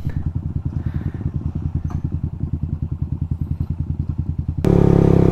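A motorcycle engine putters steadily up close with a rapid, regular thumping rhythm, then surges louder near the end as it revs.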